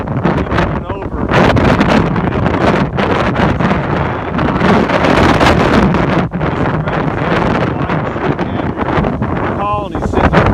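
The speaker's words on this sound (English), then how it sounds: "The winds are really strong and high." Strong high wind blasting across a bee ranch with hives and solar panels, buffeting the microphone in loud continuous gusts, with a person briefly speaking under the roar.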